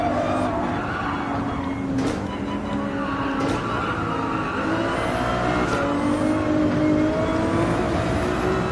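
Ferrari 296 GTB engine in the racing game Gran Turismo 7, a steady high revving drone with tire skidding through a turn, continuous and loud, with faint talk beneath.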